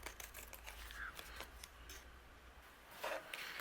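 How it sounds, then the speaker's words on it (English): Scissors snipping off overhanging card paper on a handmade card, giving faint, quick scattered cuts and rustles against a quiet room hum. "I'm going to take my scissors, and I'm just going to trim off anything that's overhanging"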